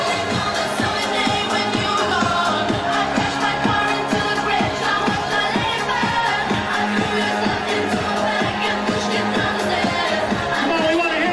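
Wedding reception crowd singing along to a song over loud dance music with a steady pounding beat, voices blending in a dense, continuous chorus throughout.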